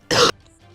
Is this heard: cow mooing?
no